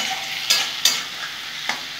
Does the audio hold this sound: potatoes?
yes